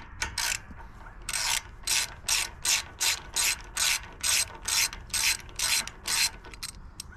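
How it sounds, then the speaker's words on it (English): A ratchet loosens a 10 mm valve cover bolt on a Predator 420cc engine, close and crisp, with about a dozen rhythmic bursts of rapid clicking separated by short pauses. "It only has one 10 millimeter bolt to remove this cover."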